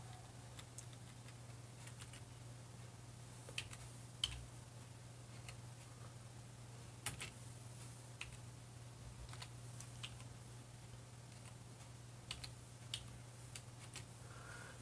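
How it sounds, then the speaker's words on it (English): Light, irregular clicks of keyboard typing, faint and close, scattered over a steady low hum with no one speaking. "Start typing."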